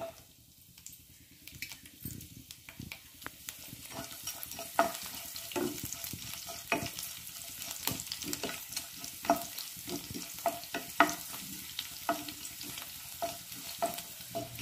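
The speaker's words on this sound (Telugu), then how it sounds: "వెల్లుల్లి రెబ్బలు వేసుకొని ఫ్రై చేసుకోవాలి" Garlic cloves and tempering spices fry in oil in a pan with a soft, continuous sizzle, crossed by many sharp spatula taps and scrapes that grow busier as the frying goes on. No voices.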